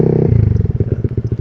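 A motorcycle fitted with a VmaxRacing V25 exhaust revs in short repeated bursts, a close, loud, rhythmic pulsing engine note with a deep bass tone.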